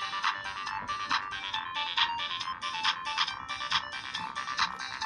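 An old mobile phone plays a polyphonic ringtone, a bright, rhythmic electronic melody with repeating beeping notes, loud and close with no talk over it.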